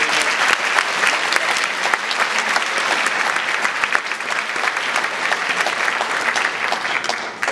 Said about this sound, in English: so a round of applause for Carrie and Lisa